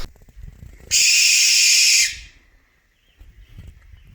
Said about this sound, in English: when it's something like a barn owl, have you ever heard the scream that they make?